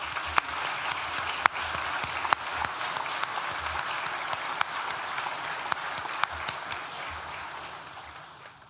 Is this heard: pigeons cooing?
no